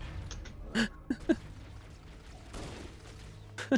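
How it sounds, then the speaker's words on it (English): Pistol fire in Halo: Combat Evolved: a few sharp, separate shots spaced irregularly over a quiet background, fairly faint overall, with two more cracks near the end. "One shot with a pistol and he's dead."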